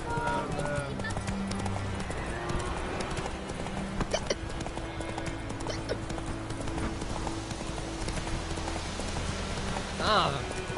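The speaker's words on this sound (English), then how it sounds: "It's raining and pouring" Steady rain patters throughout in The Witcher, with a horse's hooves clip-clopping and occasional game sounds layered over it, continuous and fairly full.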